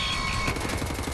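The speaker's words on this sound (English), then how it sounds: "Oh, this guy's actually shooting." Enemy gunfire in Wolfenstein The New Order, a dense burst of automatic shots rattling continuously over a steady game soundscape, loud and close, with no voices.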